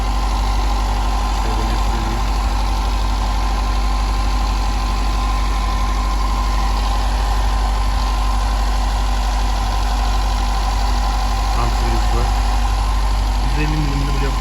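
A car engine idles steadily with a constant low hum and vibration while radiator leak sealer is added, the motor not yet fully warm; the engine drone runs throughout the clip and continues under speech.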